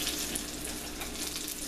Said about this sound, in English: I've got some boiling water, and I'm just going to pour these in here